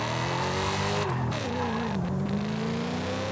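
Engine note from a car in the Night-Runners street racing game, a steady revving hum that swells and dips in pitch, loud and continuous with no talking.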